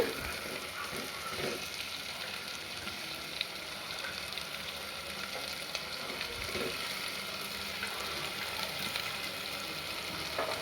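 Egg roll frying in a pan for a crispy egg roll dish, giving a steady, dense sizzle that holds evenly throughout with faint stirring scrapes and no talking.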